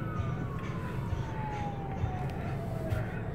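An all-clear siren after blasting near a lock, one long falling wail sustained over a low rumbling background, moderately distant and fairly steady, with no talking.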